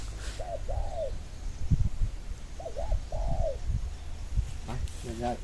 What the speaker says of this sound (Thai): ได้ยินเสียงนกตัวนึงอยู่นี่ครับ